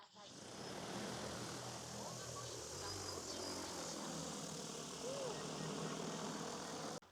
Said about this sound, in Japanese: ドローンが離陸しようとしています。